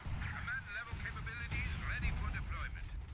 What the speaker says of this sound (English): the mortar pit is bringing in fire on them